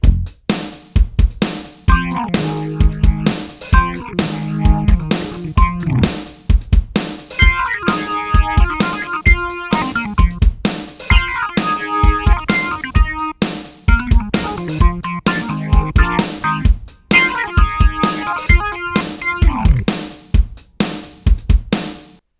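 A bright organ riff plays over a steady drum beat, repeating its phrase several times at a moderate tempo, loud and close.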